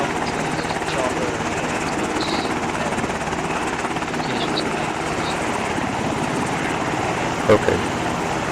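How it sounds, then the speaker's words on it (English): A helicopter passes overhead, its steady rotor thump and engine whine close and constant throughout, with faint voices underneath and a brief bump near the end. "chopper"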